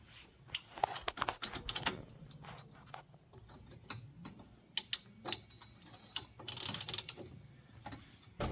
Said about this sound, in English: Get your half-inch ratchet.